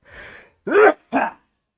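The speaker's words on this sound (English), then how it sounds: "I'm gonna sneeze." A close, sharp sneeze: a soft breathy intake followed by two quick explosive bursts of breath.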